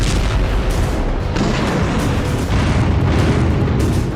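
A continuous, heavy rumbling roar of vacuum bomb blasts in the Russia-Ukraine war, loud and dense throughout with deep low-end booming and no voices.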